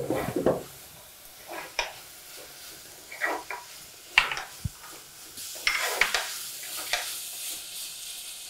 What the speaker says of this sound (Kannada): ಈಗ ಇದು ಚೆನ್ನಾಗಿ ಫ್ರೈ ಆಗ್ಬೇಕಲ್ವಾ?